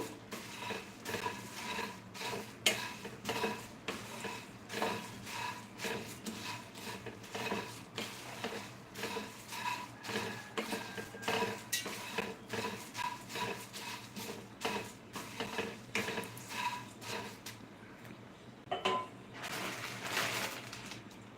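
Puffed rice dry-roasting in a pan while being stirred, making a steady rhythmic scraping and rattling of grains against metal that repeats close and fairly quiet and goes on without talk.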